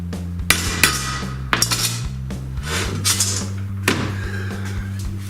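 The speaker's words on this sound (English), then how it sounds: "And then I'll come back with a regular punch and a hammer and give myself a good center punch." A hammer drives a steel center punch into metal on a garage floor during a winch installation, giving a few sharp metallic clinks and taps over a steady low hum.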